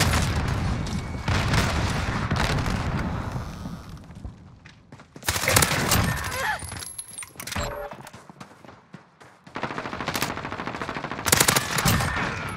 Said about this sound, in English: Everyone and their mother is shooting me.